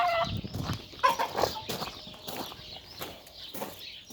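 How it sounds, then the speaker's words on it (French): Hens cluck steadily in a chicken pen where eggs are being gathered and chicks roam, with repeated nearby calls and squawks rising and falling over a few seconds, with no one talking. "Oui, je parle à mes poules."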